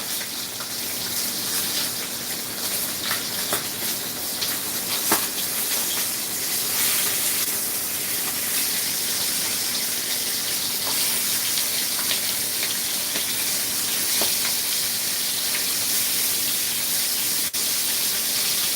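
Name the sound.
meat searing in hot oil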